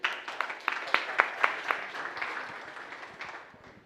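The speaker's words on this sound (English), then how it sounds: "Let's give them a round of applause." Audience applause at a crypto conference panel on stablecoins and Africa's digital economy, a modest crowd with several distinct sharp claps standing out near the front, tapering off toward the end.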